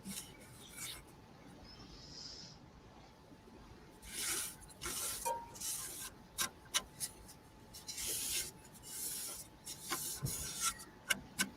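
Sharp chisels cut red gum burl wood on a lathe, making intermittent scraping, rasping bursts with short ticking contacts. The cuts are close and moderately quiet, with quiet gaps between passes and no talking.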